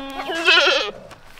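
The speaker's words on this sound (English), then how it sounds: "We got some baby goats. Look at the cute baby goats." A baby goat gives one clear, close, wavering bleat lasting under a second, alone with no talk.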